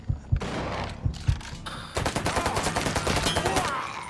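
Rapid bursts of gunfire from the video game Mafia 3, a loud close fusillade of repeated shots that thickens into sustained automatic fire in the second half, with no talk over it.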